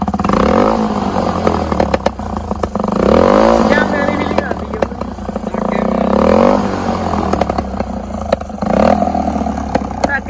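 A Hero Splendor motorcycle engine revs hard in a race, rising and falling in repeated bursts close by, with voices talking over the engine noise.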